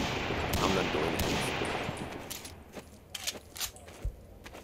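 Bursts of gunfire in the video game Insurgency: Modern Infantry Combat, with a sustained roar followed by sharp, quick shots, moderately loud, and a voice talking around them.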